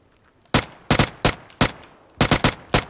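Gunfire in PUBG: several sharp, loud shots come in quick bursts, first single and doubled cracks, then a rapid cluster of three or four near the end, with quiet gaps between.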